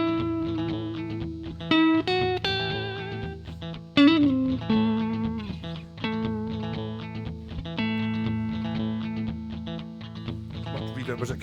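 A Japanese partscaster electric guitar plays a melody over rhythm, drenched in heavy reverb, with clean picked notes ringing into long tails and a few bends, a voice occasionally talking over the playing.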